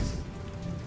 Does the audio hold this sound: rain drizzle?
yes